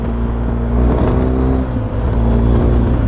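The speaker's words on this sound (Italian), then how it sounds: "Interessante anche capire il rumore dello scarico" Steady motorcycle exhaust roar while riding at about 70 km/h, a continuous loud drone with a low engine hum and wind rush throughout, no talking.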